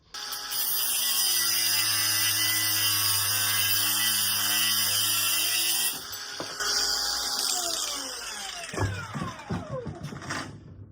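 A 4.5-inch angle grinder cuts through a metal bracket clamped in a vise with a loud, steady high-pitched whine for about six seconds, then slows and spins down with scattered clanks.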